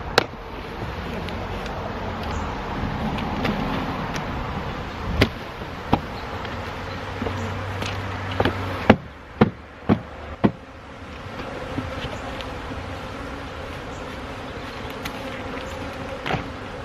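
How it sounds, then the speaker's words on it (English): A swarm of honeybees hums steadily through a rainy-day bee rescue, a dense continuous drone close by with scattered sharp knocks and taps, no voices. "I feel like I'm attracting more bees by the minute here"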